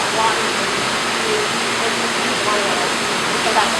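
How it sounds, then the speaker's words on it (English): A wave machine in an aquarium with live coral and skylights releases water in a loud, continuous broadband rush that fills the whole moment, with voices faintly underneath. "so that's why we have this wave machine."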